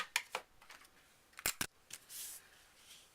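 Scissors snip ribbon in a quiet craft setting where a wedding shower card is being made, giving several crisp, faint clicks in short bursts, followed by a soft rustle.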